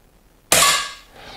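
A single sharp shot from a Weihrauch HW 100 S air rifle firing lead-free pellets, with a bright metallic crack that rings briefly and fades, close by, after a moment of quiet.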